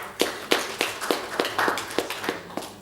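Scattered applause at a CSR awards workshop, a few sharp, evenly spaced claps from a small audience, fairly quiet and close.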